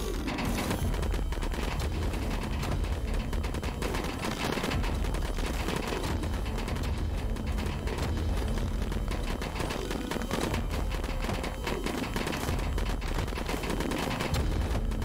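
Gunfire from the video game Bartlow's Dread Machine, with a chain gun, shotgun and pistol in play: dense, continuous rapid shots and clattering bursts that stay loud and steady throughout, with no voices.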